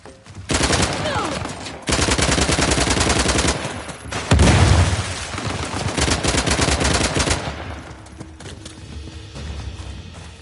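Rapid automatic gunfire in a video game firefight, loud sustained bursts with short gaps, a heavy explosion-like blast in the middle, then thinning shots and fading echoes.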